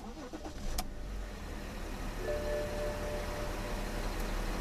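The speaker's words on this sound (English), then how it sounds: "simply locate and hit the engine start button to start the engine." A 2010 BMW 335d six-cylinder diesel engine cranks and catches, then settles into a smooth, steady idle close by, with a couple of faint clicks and a short whine over it.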